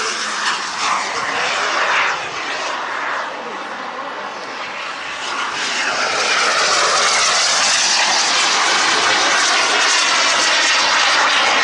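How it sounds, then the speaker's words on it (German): GB-Jets Vixen composite model jet passes slowly overhead from right to left, a loud steady turbine whine that swells as it nears, while an announcer speaks over it. "die Vixen ist hier in einem langsamen Überflug von rechts nach links"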